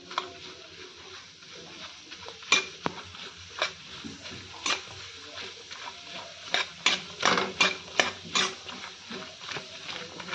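Curry with potato cooks in a pan while a utensil stirs and scrapes it, giving irregular metallic clinks and scrapes over a faint low sizzle, close by and moderately quiet.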